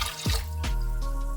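Water poured into a bowl of rinsed rice for congee, close dripping and sloshing with a couple of splashy plops, no one talking.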